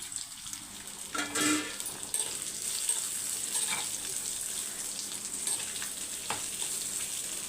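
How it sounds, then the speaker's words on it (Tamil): Steady sizzling of onions frying in a pan, with a few stirring scrapes and clinks, close by and continuous. "இப்போ வெங்காயம் வதங்கட்டும்"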